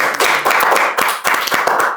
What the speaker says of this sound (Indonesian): Tepuk tangan dulu buat kalian semua.